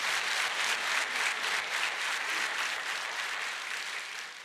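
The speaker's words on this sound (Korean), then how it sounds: "우리 박수로 한번 격려 한번 하겠습니다" A church congregation applauds to encourage its small-group leaders, a full, steady burst of clapping that thins slightly toward the end.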